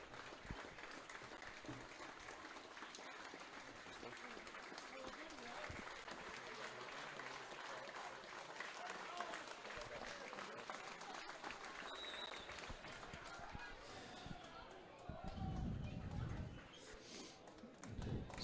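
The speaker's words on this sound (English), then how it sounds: "a minute's applause just observed there for Marty Mulney" A stadium crowd gives a minute's applause before a League of Ireland match, with steady, distant clapping that holds evenly throughout and a brief louder swell near the end.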